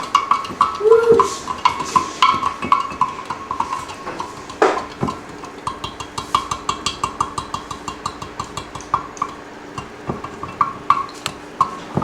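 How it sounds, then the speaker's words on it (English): A spoon stirs sugar into water inside a glass jar, making a steady run of quick, bright clinks against the glass that repeat rhythmically for several seconds, close and fairly clear, with a low background hum. "It takes a few seconds just to stir."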